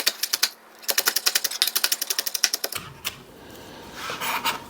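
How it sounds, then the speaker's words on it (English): A knife chops green onion finely on a cutting board in a home kitchen, a fast, even run of crisp taps for about three seconds, then a few scattered knocks and scraping. "Just cut it really small."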